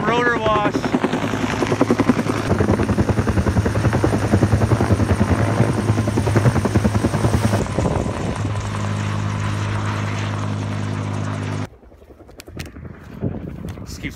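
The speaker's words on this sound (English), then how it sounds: "once there's not helicopters flying all around" A helicopter flies close overhead during firefighting air attack, its loud, chopping rotor throb dominating for most of the stretch before cutting out abruptly, leaving quieter outdoor noise; voices are faintly present.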